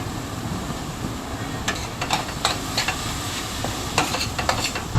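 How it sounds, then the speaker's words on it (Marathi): Tomatoes hit hot masala in a pan for anda keema, a loud steady sizzle with scattered stirring scrapes and spatters, close and without talk. "आतां हांव टमाटोय घालता"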